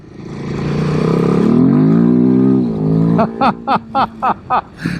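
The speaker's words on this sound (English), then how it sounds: "The bike is running grand." A Royal Enfield Himalayan 452 motorcycle rides through sand on a dusty trail, its engine droning loud and close as it rises and settles, then chugging in a series of short, rhythmic pulses.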